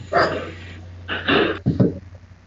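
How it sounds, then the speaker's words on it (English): A Lhasa Apso and a Pomeranian barking indoors in three quick bursts of loud, close yapping over a steady low electrical hum. "Now the dogs are going crackers."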